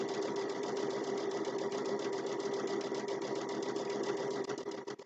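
A sewing machine runs steadily while stitching a fabric napkin with mitered corners, giving a close, continuous, even whir of rapid needle strokes throughout that slows slightly right at the end.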